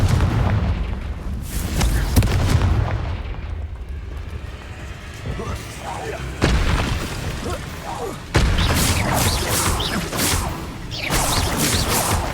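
Fire spell explosions in the video game Hogwarts Legacy land as a series of loud, booming blasts with sharp onsets, set over continuous game ambience with a little speech.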